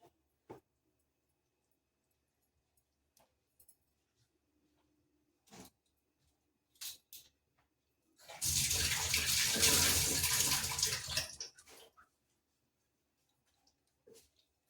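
Coriander leaves rinsed under a running kitchen tap, a steady splashing rush of water lasting about three seconds, preceded and followed by scattered soft clicks and handling noises in an otherwise quiet room.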